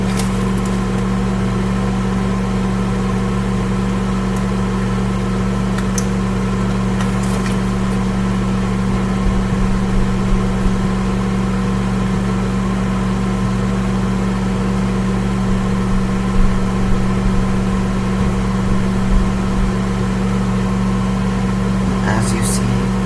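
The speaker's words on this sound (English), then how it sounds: "Microwave it on high for 1 minute." A microwave oven runs on high heating a cup of coffee water, a steady loud hum with a constant low drone and faint clicks, unchanging for over twenty seconds.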